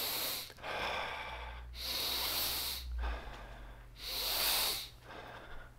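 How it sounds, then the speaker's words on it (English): Deep mouth breathing shown as part of a breathwork session, with slow, loud, airy inhales and exhales alternating in a steady rhythm, close and alone. "it's going to be 3 minutes of this deep breathing that looks like"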